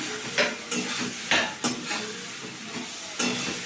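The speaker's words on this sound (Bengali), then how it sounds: "খুব ভাজা কচুগুলো দিয়ে দিলাম।" Fried taro pieces tossed into a pan and stirred, several sharp scraping strokes of a spatula at an irregular pace over a gentle sizzle, heard close with no talking.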